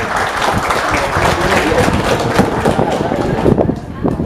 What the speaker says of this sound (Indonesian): Berikan tepuk tangan buat mitra peternak kita.